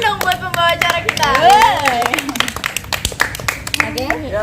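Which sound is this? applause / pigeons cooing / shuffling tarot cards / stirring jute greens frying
applause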